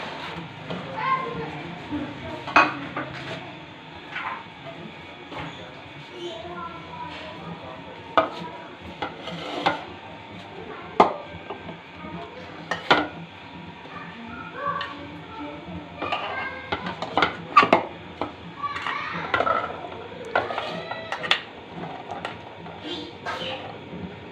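Corn chaat is spooned out of a cooking vessel into a serving dish, giving a run of scattered metallic clinks, scrapes and stirring knocks at close range over a low kitchen background.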